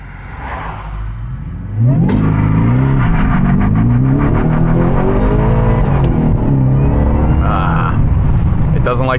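A 2024 Ford Raptor R does a boosted launch in two-wheel drive. The engine roars up loudly and steadily in pitch, then stays at a sustained high-revving drone through the run, with a brief dip near a shift.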